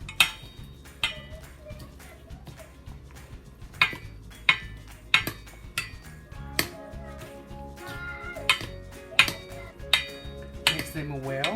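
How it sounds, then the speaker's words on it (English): Chicken salad with herbs and vegetables being tossed in a bowl, a series of sharp utensil clinks and scrapes against dishware in an uneven rhythm, close and fairly loud, with faint background sounds between hits. "Mix them well, so that all the flavor go to the meat and also those herbs and veggies."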